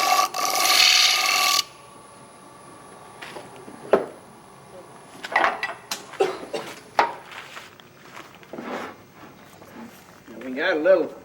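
Green wood rubbed with sandpaper for a stool, a loud rasping burst and then a run of short scratchy strokes, close by, with a voice speaking over part of it.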